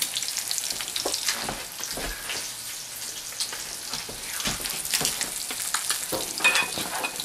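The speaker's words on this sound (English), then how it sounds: "Now I'm just going to add a 1/4 cup of flour to the melted butter for my sauce." Flour cooking and being stirred into melted butter for a sauce, a steady close sizzle with soft scraping strokes throughout.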